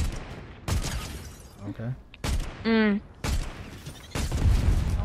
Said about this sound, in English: He's throwing grenades.